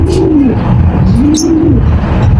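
Racing pigeons coo nearby in low, rolling calls, two clear coos rising and falling over a loud background hum, at a release in Tuguegarao, Cagayan.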